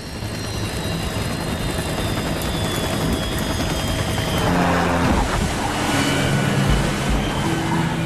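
Sikorsky S-92A helicopter ditching into the sea, a loud continuous rotor and turbine roar with rushing noise that thickens and rumbles in the second half, no talk.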